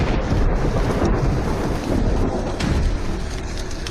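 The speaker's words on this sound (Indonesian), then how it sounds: "Hujan buatan." Staged artificial rain for a film scene pours down as steady, loud, dense hiss with rumbling thunder rolling beneath it throughout.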